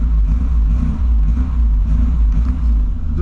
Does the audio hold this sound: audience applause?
no